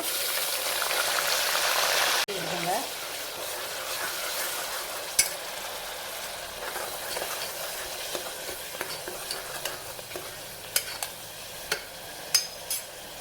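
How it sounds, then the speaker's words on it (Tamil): Mustard seeds and ground onion hit hot oil in a pan for tomato rice, giving a steady close sizzle with scraping stirs and a few sharp pops and crackles. "கடுகு சேர்த்துக்கோங்க கண்டிப்பாக பிரிந்தா சேர்த்துக்கோங்க அரைச்சி வச்ச வெங்காயம் சேர்த்துங்க"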